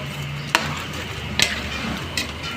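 A spoon stirs pork adobo with bouillon cubes and bay leaves in a pot, giving three short scraping clatters spaced about a second apart over a low, steady simmering hiss.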